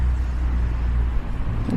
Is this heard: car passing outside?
yes